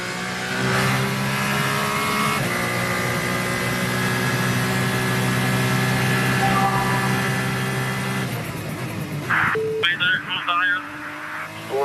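Onboard Formula 2 race car engine at the 2019 Russian race, a loud sustained high-pitched whine rising and falling through gear changes, with a commentator talking over it throughout.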